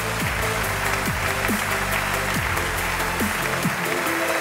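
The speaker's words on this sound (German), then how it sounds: "Begrüßen Sie mit tosendem Applaus" A large audience at a young leader award ceremony greets a company director with thunderous applause, a loud, dense and unbroken wall of clapping that stays steady across the whole clip, with sweeping music tones audible beneath it.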